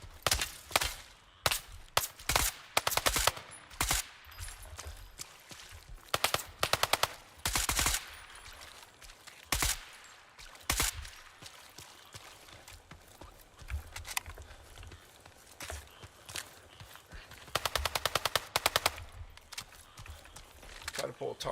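Suppressed AK rifle fire in the video game Red River Incursion, heard as repeated bursts and single shots spread throughout, fairly loud and sharp, with a voice talking in between.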